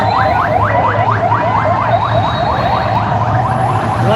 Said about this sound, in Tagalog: Meron pa isa fire truck.